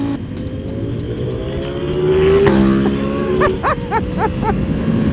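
A Ducati carbon V4 SP motorcycle roars past up close, its engine note sweeping upward, then dropping sharply at a gear shift before climbing again with crisp pops as it pulls away.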